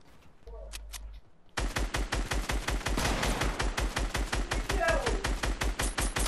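Gunfire in the video game Fortnite: a few isolated shots, then a loud, sustained burst of rapid automatic fire with an even, machine-gun rhythm that runs to the end.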